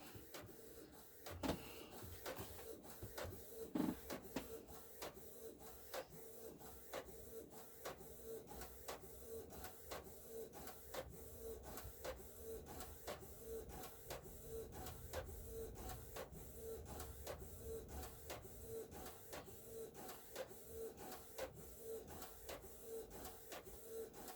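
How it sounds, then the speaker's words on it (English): A home printer prints a photo onto fabric for a quilt, giving a steady mechanical whir with a regular ticking rhythm that runs for over twenty seconds at low level with no talking. "I haven't used my printer in a while"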